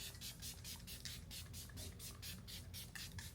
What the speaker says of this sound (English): I am gonna spray my face with a little setting spray